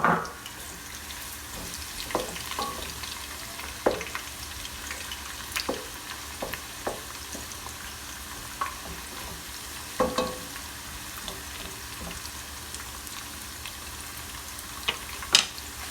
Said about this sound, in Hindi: तेल तकरीबन थोड़ा गर्म हो गया है और इसमें हम प्याज ऐड कर लेते हैं।